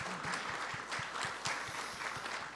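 Audience applause at the 15th Dongmyeong Award ceremony, honouring two chairmen: fairly faint clapping from a crowd, with a few sharper individual claps standing out in an uneven rhythm.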